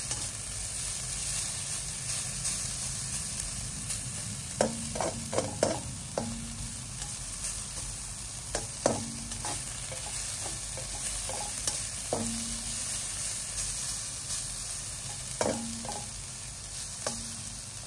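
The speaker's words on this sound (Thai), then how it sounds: "ต้องผัดเครื่องให้หอม" Curry paste stir-frying in a hot pan for a fish dish: a dense, even sizzle and hiss fills the background while scattered clusters of spatula scrapes and taps sound up close, with no voices.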